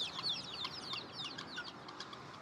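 Chickens on a farm in Kansas on a sunny day, with busy high-pitched clucks, chirps and wing flutters mixed together at close to moderate range throughout.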